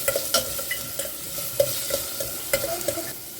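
Chopped onion fries for a mushroom curry, a steady sizzle broken by a regular series of sharp spatula scrapes and taps against the pan, close and fairly loud with no talking.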